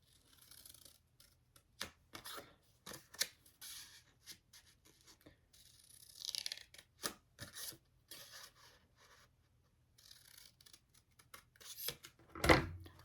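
Scissors snip through paper while cutting a paper box craft toward a marked X, a series of short, close crisp cuts with pauses, ending in a louder final snip and no talking.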